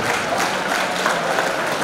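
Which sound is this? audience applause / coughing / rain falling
audience applause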